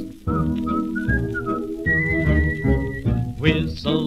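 Melodic whistling from a 1934 recording: clear sustained whistled phrases rise and fall over the band's accompaniment, loud and close.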